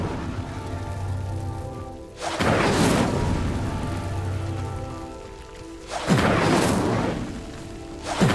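Incendio fire spell cast in Hogwarts Legacy on PS5, two loud whooshing flame bursts about four seconds apart, each rising suddenly and crackling before fading into a low ambient hum.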